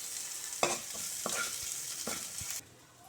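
Small onions sautéing over low flame for a chutney tempering, a steady bright sizzle with a few sharp scrapes of a spoon stirring the pan, close and continuous until the frying drops away near the end.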